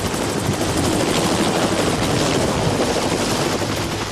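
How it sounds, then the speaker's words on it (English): A loud, steady medical rescue helicopter roar with a pulsing low rotor thump that holds unbroken throughout, close by and filling the whole scene. "Nineteen-year-old Cody McQuillan was transported by helicopter to Utah Valley Regional Medical Center."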